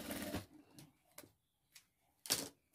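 A sewing machine stitching fabric for a handbag, heard as a few short, separate bursts of close mechanical whirring with quiet pauses between them and no talking.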